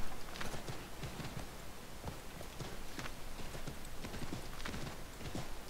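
Horse hooves clip-clop continuously in Assassin's Creed 3, a rapid, even stream of hoofbeats under a noisy game soundscape, fairly faint and with no voices.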